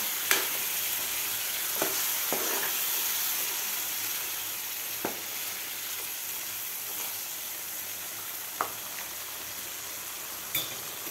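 Bitter gourd cooking in black masala in a pan, a steady close frying hiss with occasional sharp clinks of a spoon against the pan as it is stirred, no talk.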